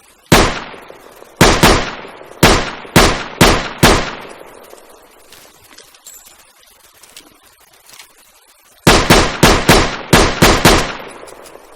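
Loud unsilenced M1895 revolver shots in an Arma 3 war mod, sharp reports in two clusters, five quick rounds then a pause of quiet, then another rapid string of six or seven.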